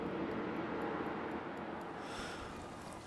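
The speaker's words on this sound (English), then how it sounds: "There's rain and everything." Steady broadband rain hiss in the rainy streets of the video game NORCO, a dense continuous wash with no voices, easing slightly toward the end.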